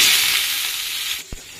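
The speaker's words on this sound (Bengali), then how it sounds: "এবার ওই তেলের মধ্যেই আলু আর পেঁয়াজ একসাথেই দেব।" Thin-cut potatoes and onions hit hot oil left from frying puti fish, giving a loud, close, steady sizzle that cuts off abruptly near the end, followed by a single dull thump.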